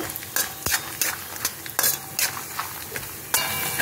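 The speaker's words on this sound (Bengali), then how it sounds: "এখন আমি চীনা বাদামগুলো সব দিয়ে দেবো, দিয়ে একটু নেড়ে চেড়ে ভেজে নেব।" Peanuts sizzle and rattle in hot oil as a utensil stirs them in repeated scraping strokes, close and fairly loud, with no talking.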